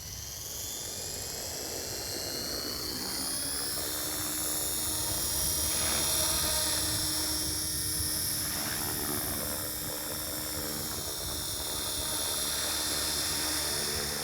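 Helicopter hovering during a cyclic trim check, a loud sustained whine and turbine hum with a throbbing rotor beat underneath, swelling slightly in the middle and staying constant, close and without talk.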